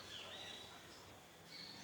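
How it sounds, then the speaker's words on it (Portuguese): Faint bird whistles drift high above a steady bed of nature ambience at the Paricatuba ruins in the forest near Manaus, a couple of thin, drawn-out calls rising and falling. "Vamos ouvir o som da natureza que temos aqui? O som dos pássaros?"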